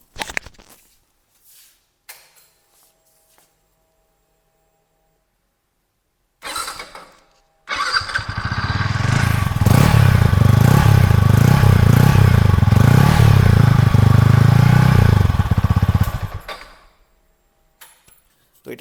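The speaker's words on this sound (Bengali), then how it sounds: "এবার আসবো এর যে এক্সস্ট, এর এক্সস্টের আওয়াজ আমি আপনাদেরকে শোনাচ্ছি" A Yamaha R15 M motorcycle's exhaust catches after a brief crank, then roars loudly and steadily up close for about eight seconds before cutting off.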